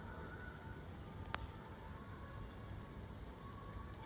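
Rain falls steadily, a soft continuous hiss with one brief sharp tick partway through and no voices.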